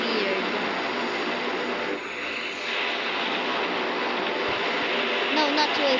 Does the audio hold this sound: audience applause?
no